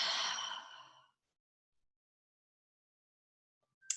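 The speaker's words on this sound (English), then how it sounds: "I want to just invite you to take an inhale in And an exhale out." A deep breath released in a slow, audible exhale during a guided yoga breathing exercise, close and breathy for about a second, then silence before a faint, brief breath at the very end.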